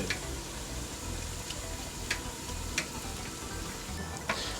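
Steady crackling sizzle of hot oil deep-frying sweet pastry, with occasional faint ticks and no voices.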